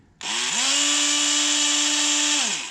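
A Yamaha WR450 dirt bike's electric starter motor whirs steadily for about two seconds, a high mechanical whine that winds up quickly then spins down at the end, close by.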